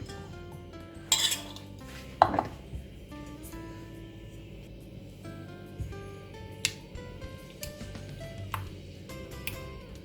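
Quiet clinks, scrapes and soft squelches come from mixing spice paste and coating fish pieces in a bowl, with a sharper tap or two over a low steady background hum.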